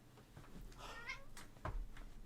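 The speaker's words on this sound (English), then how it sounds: "Shut up, cat." A house cat meows once, a drawn-out whiny call up close, followed by a soft thump in an otherwise quiet room.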